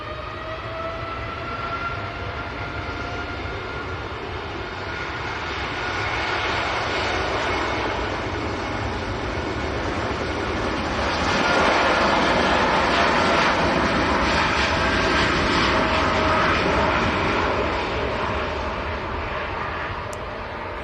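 A jet airliner takes off from Manchester Airport bound for Jeddah, a loud sustained engine roar that builds and peaks past the midpoint before easing slightly, with a faint tonal whine riding above.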